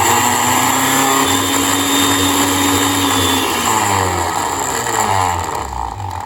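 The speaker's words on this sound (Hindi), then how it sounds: "अभी इसके ऊपर मैंने स्पाइस ग्राइंडर लगा दिया है।" A Sovio food processor with its spice grinder attachment runs at high speed, a loud constant motor whine with shifting harmonic tones as the pitch wavers slightly before easing near the end.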